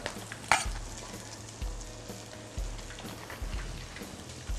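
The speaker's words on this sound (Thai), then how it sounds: "ปล่อยปลาไปครับ ให้เขาว่ายน้ำมันเล่น" Steady sizzling and crackling of mackerel frying in hot oil, with soft periodic thumps underneath, close and continuous.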